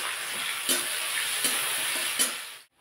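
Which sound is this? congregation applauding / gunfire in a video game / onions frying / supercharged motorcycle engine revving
onions frying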